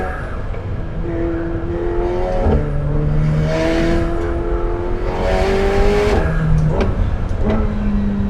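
McLaren 750S supercar accelerating hard, its engine note climbing through rising revs with brief breaks at gear changes and a few sharp exhaust pops, loud and close throughout.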